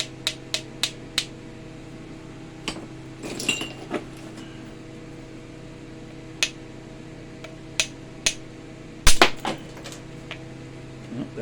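An iron bopper hammer spalling flakes off low-grade rock strikes in sharp, bright clinks: about a dozen isolated taps spaced irregularly, with one heavier, louder crack near the end, over a quiet background.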